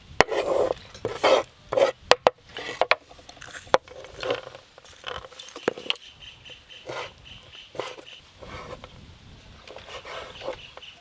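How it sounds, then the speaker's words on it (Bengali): Knife finely chopping raisins on a board for a Christmas cake, giving a series of quick, irregular close taps and scraping strokes with short pauses between bursts. "এবার কিশমিশ কুচি কুচি করে কেটে নেব"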